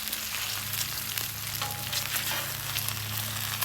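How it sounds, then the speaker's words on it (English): Pork frying in bacon grease on a flat-top griddle, a steady close crackling sizzle that continues evenly throughout with no talking. "I'm going to start frying in the bacon grease with our pork"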